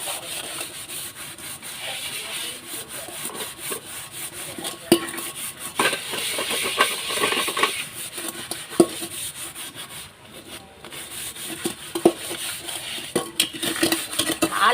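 Metal pots scrubbed by hand with gritty brick powder and kolam powder, giving a steady, close rasping and rubbing with occasional clinks and knocks of the vessels, and no talking.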